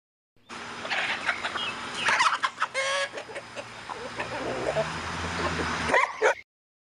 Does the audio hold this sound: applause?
no